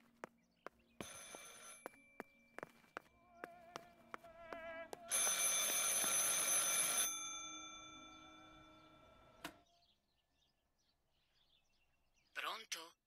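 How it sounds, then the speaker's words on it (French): A telephone in the video game Martha Is Dead rings in repeated sharp bell bursts, followed by a sustained loud ring, then fades to quiet before a brief final burst. "Je devrais décrocher le téléphone"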